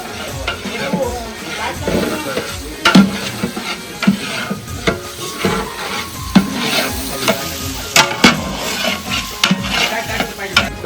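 Chopped onion sizzles and fries in a pan over a wood-fired clay stove for a village-style Agri mutton dish, with steady frying hiss and repeated scrapes and knocks of a spoon stirring, close and fairly loud.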